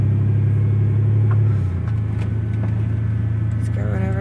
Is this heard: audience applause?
no